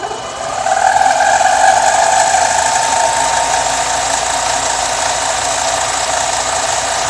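A metal lathe starts up and runs, its motor rising quickly to a steady, loud mechanical whir with gear whine and faint rattling that continues unchanged, close by and with no talking.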